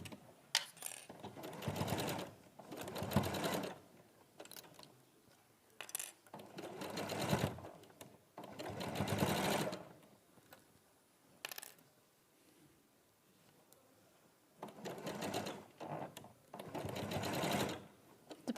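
A sewing machine stitches fabric with a 1/8 inch seam allowance, running in several loud bursts of rapid whirring separated by short pauses, alone with no talk.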